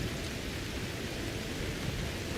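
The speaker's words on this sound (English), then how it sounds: "it's raining so loud I can't focus" Heavy in-game rain in Skyrim, a loud, steady broadband hiss that stays constant from start to finish with no other sounds standing out.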